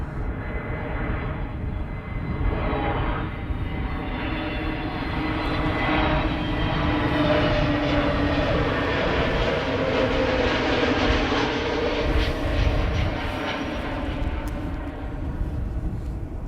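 A Condor airliner flies overhead near Amsterdam Schiphol Airport, with a loud, steady jet engine roar whose pitch slowly glides downward as it passes, fading slightly at the end. No talking is heard.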